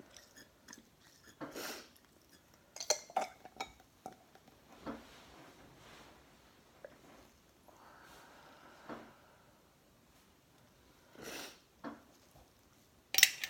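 A bacterial dilution tube being mixed at a lab bench, heard as scattered short taps, clinks and brief rattles, fairly quiet, with small gaps between the bursts.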